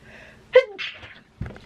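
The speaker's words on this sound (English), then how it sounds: "I have to sneeze." A single sharp sneeze bursts out, close and loud, followed by a short pause and a faint rustle or exhale.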